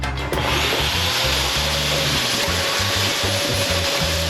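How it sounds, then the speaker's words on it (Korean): A vacuum cleaner runs steadily while cleaning a guest room and bathroom, a loud continuous drone with shifting low tones as it moves, alone without talk. "그 다음엔 방과 화장실 구석구석 청소기를 돌립니다."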